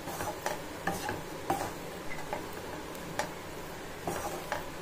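A spoon stirs fried egg and bread into masala in a pan, giving soft, irregular scraping and tapping clicks at close range over a faint steady sizzle.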